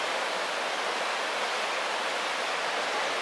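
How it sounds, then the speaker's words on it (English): Floodwater rushing hard under an overpass on flooded ATV trails, a steady, dense roar of water with no breaks and no voices. "just the power of the rushing water."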